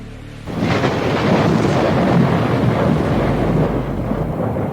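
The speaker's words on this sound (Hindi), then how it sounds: "तभी अचानक से एक गर्जना सुनाई देती है" A loud, sustained rumble of thunder rolls into a storm over the sea, a dense roar that swells quickly and holds steady, used as an animated story effect.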